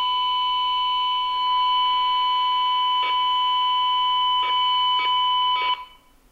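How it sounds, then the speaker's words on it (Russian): Steady test tone from a signal generator received on a Senhaix GT-12 handheld radio, a constant pure whine with a fainter companion tone and a few brief clicks, running loud and alone before cutting off near the end. "более-менее сигнал генератора становится слышен"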